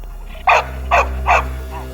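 A bull terrier gives three evenly spaced, sharp barks over a steady low hum, each bark short and fairly close.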